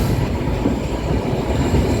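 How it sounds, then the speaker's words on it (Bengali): The Chitra Express rolls into Jamuna Bridge West station, a loud continuous rumble of wheels on rails close by, no voices. "চিত্রা এক্সপ্রেস যমুনা সেতু পশ্চিমে প্রবেশ করছে"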